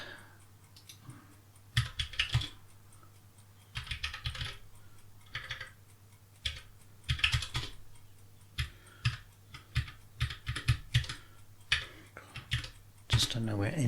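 Someone types on a computer keyboard in uneven bursts while writing Swift code for an iOS word game, the keystrokes clicking close and crisp between short pauses.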